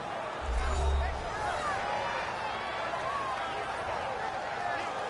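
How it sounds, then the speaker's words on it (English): A football stadium crowd at an NFL game between the Rams and Cardinals produces a steady, broad roar of cheering and murmur, with a low thump near the start and a commentator's voice over it. "The crowd getting into it as we come up on a big third down"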